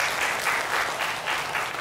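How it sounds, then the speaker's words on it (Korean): A church congregation at a Sunday service bursts into full applause, a thick continuous clatter of many hands swelling in slight waves and heard up close, with no voices over it. "우리 박수 한번 칩시다"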